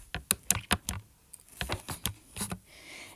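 Quick clicky presses on a calculator keypad as numbers are entered, a rapid irregular run of sharp taps, close and clear with no talking.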